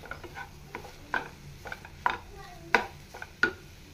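A mackerel cutlet mixture being worked together with gram flour in a Goan home kitchen, giving soft scraping and squelching strokes with a few sharper clinks of utensil against bowl at irregular intervals.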